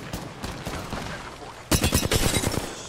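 Rapid automatic gunfire from enemy players in an online shooter game, a dense burst of loud shots in the final second and a half after quieter rumbling, no talk over it.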